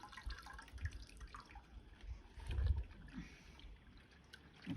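A wild rag is plunged up and down in a tub of rinse water, producing soft, quiet sloshes and drips in an uneven rhythm, close by and without talk.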